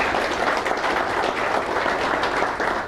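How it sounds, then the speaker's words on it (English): Steady applause from an audience at a Children's Miracle Network charity ride event with a children's hospital, filling the space evenly for a few seconds with no talking over it. "Beth, round of applause."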